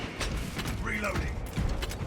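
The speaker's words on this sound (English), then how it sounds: "Reloading." A weapon is reloaded in a sniper build of a shooter game, with a quick run of mechanical clicks and metallic ratcheting over a background of game noise. It is brief, moderately loud and close.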